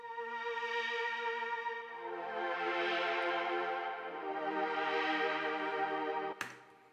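Retro house synth strings run through a Super VHS plugin and a sidechain compressor, sustained chords that swell and pump in slow waves, heard alone until a brief click near the end.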